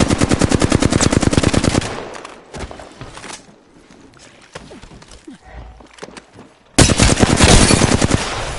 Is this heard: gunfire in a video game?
yes